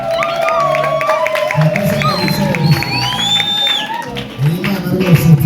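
Rwandan wedding crowd ululating and cheering, high wavering trills rising over a dense, loud din of voices and shouts that swells throughout, with a couple dancing at the celebration.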